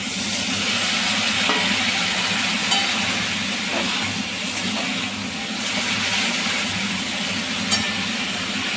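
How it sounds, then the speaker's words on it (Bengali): Potatoes and greens stalks frying in a pan hiss in a loud, steady sizzle after a little water is added, the bubbling roar continuing without pause. "সামান্য একটু জল দিচ্ছি।"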